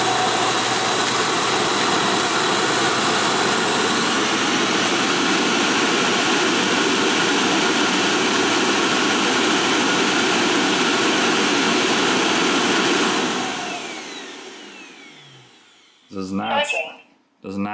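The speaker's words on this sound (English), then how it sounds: "Start dust collection." iHome NOVA robot vacuum self-empty station runs its dust collection cycle with a loud, steady, roaring suction whoosh for several seconds before winding down, followed by brief talking.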